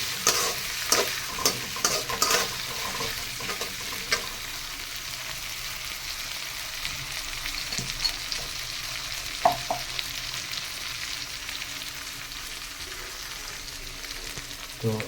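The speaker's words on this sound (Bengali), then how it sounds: "আদা রসুন কাঁচা লঙ্কার পেস্ট এটাকে একটু ভালো করে ভেজে নেব।" Ginger, garlic and green chili paste fries in a pan with a steady sizzle, broken by sharp scraping stirs early on and a few clatters later, moderately close and without talk.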